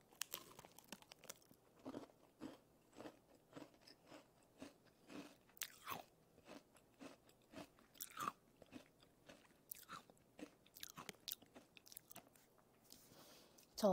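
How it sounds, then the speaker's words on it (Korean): Crunchy strawberry kohakutou candy is bitten and chewed close to a new microphone, giving quiet, crisp crunches and clicky chewing sounds in an irregular rhythm with soft mouth noises between them. "한번 먹어볼게요."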